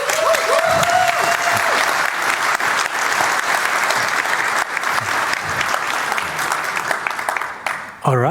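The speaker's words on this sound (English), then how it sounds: "Please welcome them with a huge round of applause." Large audience applauding to welcome speakers at a hacker conference hall, sustained dense clapping with a brief voice early on, loud and filling, dropping off at the very end.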